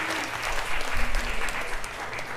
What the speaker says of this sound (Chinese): 我为我们的教会鼓掌一下